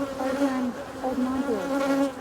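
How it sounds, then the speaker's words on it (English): Honeybees from a colony being split, buzzing steadily and close with shifting wing tones that rise and fall. "Pretty good bees, huh?"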